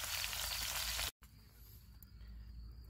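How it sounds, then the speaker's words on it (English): Mushrooms pan frying outdoors, a loud steady hiss of sizzling that cuts out briefly, then returns as a quieter crackling fry with no talking. "I decided to pan fry my mushrooms"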